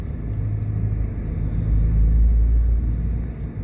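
Street traffic in Paco, Manila near an elementary school: a continuous low rumble of passing cars and engines, swelling to a louder close pass midway, with no talk.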